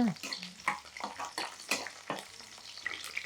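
Garlic frying in oil in a pan while preparing a Telugu dried-prawn dish, with soft crackling and a few stirring scrapes close by, faint and intermittent, with no talk.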